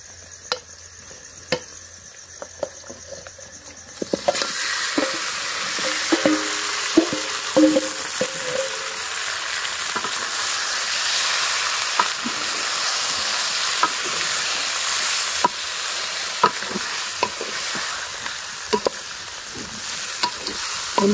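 Desi chicken with browned onions, turmeric and spices sizzling and frying loudly in a pan, a steady hiss broken by frequent scraping stir clicks; the sizzle starts abruptly a few seconds in and continues alone.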